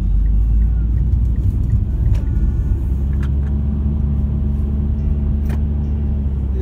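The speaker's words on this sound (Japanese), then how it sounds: "オランダで俺運転してますから" A car drives along a road in the Netherlands, heard from inside as a loud, steady low engine and tyre rumble with a few faint clicks and no speech.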